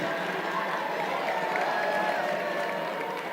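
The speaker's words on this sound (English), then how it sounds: "Big round of applause for our nominees" An audience at a nurses' award ceremony claps steadily for the nominees, a dense even patter of many hands in a hall with crowd murmur underneath.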